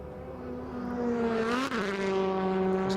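Onboard sound of a WTCC touring race car at the Nürburgring in free practice as its wheels leave the ground, a loud engine note whose pitch dips sharply and then climbs as the wheels spin up.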